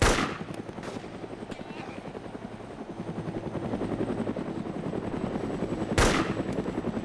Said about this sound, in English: I think someone else is shooting at him too